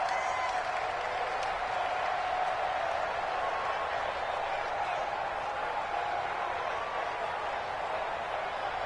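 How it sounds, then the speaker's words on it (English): A stadium crowd at a football game inside the Dome gives off a dense, continuous roar, steady and fairly distant, with scattered clapping and no single voice standing out. "The crowd here in the Dome making things difficult."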